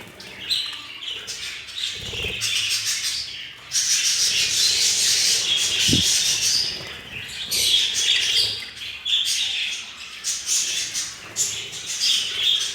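Many budgerigars chatter and chirp continuously in a busy aviary flock, with a couple of soft thuds and rustles nearby.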